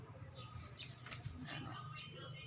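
Pigeons flap their wings nearby in a brief, soft fluttering burst with faint chirps mixed in, fairly low in level.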